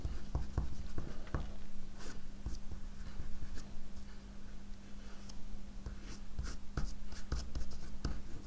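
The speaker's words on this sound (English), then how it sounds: "Scratching out with a palette knife is always" A palette knife scratches acrylic ink paint on slick synthetic Yupo paper, giving quick, irregular scraping strokes close up over a faint steady hum, with no talking.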